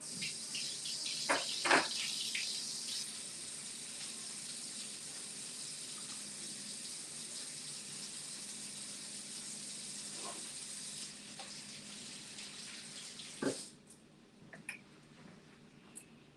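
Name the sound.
water running from a tap while washing hands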